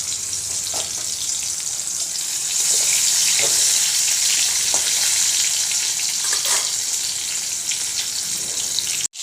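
Whole cumin seeds, added with tomato, frying in hot oil make a loud, steady, close sizzle throughout, with a few stirring scrapes and an abrupt stop at the end.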